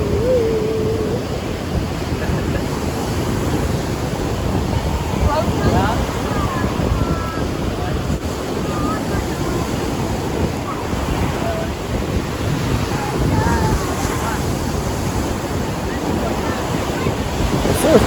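Rough Gulf Shores surf crashing steadily on the beach, a loud continuous roar of breaking waves with heavy wind buffeting the microphone; voices speak faintly under it.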